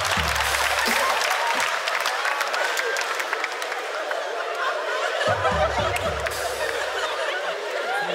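Live audience clapping at a comedy show, steady applause mixed with laughter and snickers from the crowd, with low thumps of shouting voices near the start and again midway.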